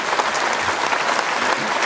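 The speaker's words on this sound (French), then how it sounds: "Applaudissez fort Céline pour qu'elle vous entende" A comedy show audience at Le Nautile in La Forêt-Fouesnant applauds loudly, a dense steady wash of clapping that fills the whole stretch with no talk over it.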